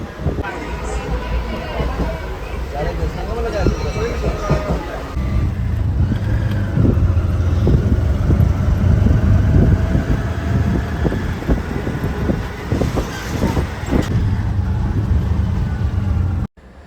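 A car travels along a road with a steady engine and tyre rumble and wind buffeting the microphone, while people talk over the constant drive noise.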